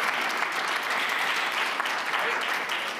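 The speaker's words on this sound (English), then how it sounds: "Round of applause for him." Audience applause in a large hall at the Munich Security Conference, a dense steady round of clapping from a big crowd, loud and sustained for the whole stretch.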